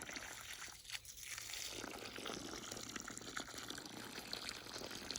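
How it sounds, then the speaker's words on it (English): Water poured onto a raised garden bed, a steady broadband splashing and gushing that runs close and fairly loud throughout, with a brief dip near the start. "going to take a little bit more water. It's just sucking that water right up."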